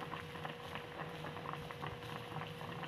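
Bread pakoras frying in oil with a steady, soft bubbling crackle that holds at an even level throughout, near and continuous with no talking.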